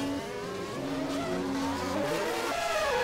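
A Formula One car spins out at the Nordschleife carousel in a racing video game, its engine note wailing and sliding up and down in pitch over about three seconds with no talk.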